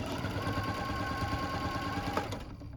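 A sewing machine runs steadily, stitching a 3/8 inch seam along the short sides of fabric, with a constant whirring hum close by that slows and stops near the end.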